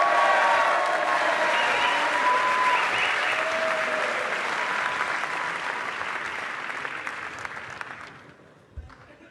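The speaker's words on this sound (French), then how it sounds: "Un grand applaudissement pour lui." A large audience at a Brexit support evening in London claps loudly for a speaker, a dense wash of applause that holds strong for several seconds, then thins out and fades to silence.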